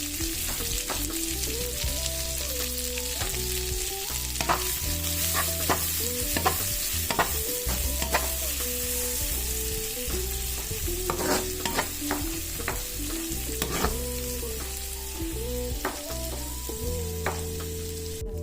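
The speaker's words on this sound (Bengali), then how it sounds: "পেঁয়াজটা আমি পুরোপুরি ভাজবো না আধা ভাজা রাখবো" Onions half-fry in a hot pan for a mixed greens dish while a utensil repeatedly stirs and scrapes, steady frying crackle with no voices, over quiet background music.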